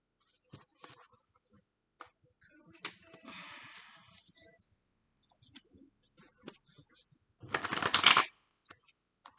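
Tarot cards are shuffled by hand in short riffling bursts, quiet at first and then one louder close-up riffle, in a hushed room with occasional small clicks.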